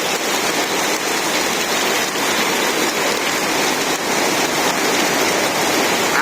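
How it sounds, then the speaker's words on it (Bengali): Heavy rain pours down steadily in a Bangladeshi village, a loud, dense, unbroken hiss of drops hitting surfaces nearby. "এই দেখো কি বৃষ্টি, হায় রে হায়।"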